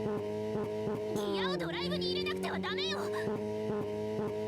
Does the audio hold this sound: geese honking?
no